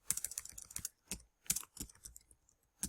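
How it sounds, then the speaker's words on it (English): Fingers type a username on a computer keyboard, making quick clusters of light key clicks with short pauses between bursts, close and fairly quiet. "Here you'll type in your username"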